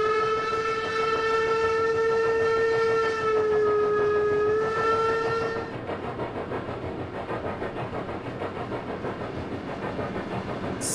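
A steam locomotive whistle on the Brocken railway in the simulator Trainz 22 blows one long, loud harmonic tone for about six seconds, then gives way to a steady rumbling chuff of the train running.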